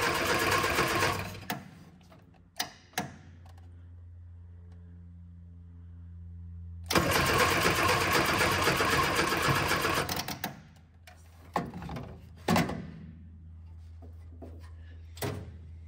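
Innocenti S Spider engine cranks over in two close, rapid whirring bursts, a short one and a longer one several seconds later, separated by quiet with a few clicks and knocks.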